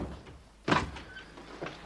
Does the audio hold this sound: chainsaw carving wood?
no